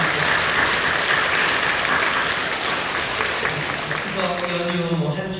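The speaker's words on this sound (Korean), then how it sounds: "우리 사랑하며 격려하며 박수해 주시죠." A church congregation at Incheon Full Gospel Church claps in a dense, even round of applause, with a voice starting to speak over the clapping near the end.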